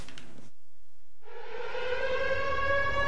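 A civil defense air raid siren starts after a short burst of noise and a brief silence, then rises into a loud, steady wailing tone that holds to the end, with no voices.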